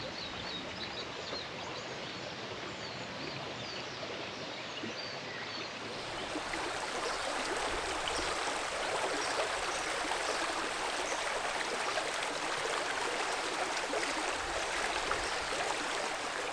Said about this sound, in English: A pretty stream cuts through the village, probably a tributary of the larger North Tyne River that curves around the outskirts